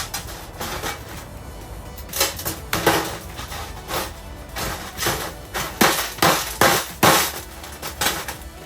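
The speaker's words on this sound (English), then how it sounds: "my little hammer or some tool to knock this open" A small hammer knocks open a chunk of ore slag, giving a run of sharp, bright metal-on-rock strikes and cracks, some closely spaced and loudest toward the end, with scraping and handling between hits.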